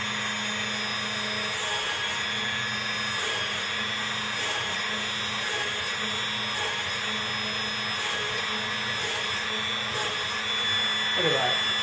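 A rotary tool mounted in a drill press runs at speed, giving a steady, continuous motor whine and hum with no breaks, close and moderately loud.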